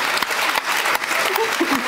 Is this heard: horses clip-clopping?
no